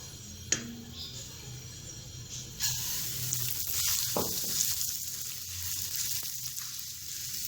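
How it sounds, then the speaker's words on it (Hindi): Broken wheat (dalia) is added to hot oil with cardamom and fries, starting with a sharp tap, then a louder rushing sizzle that swells and continues steadily. "अब हम इसके अंदर दलिया ऐड कर देंगे।"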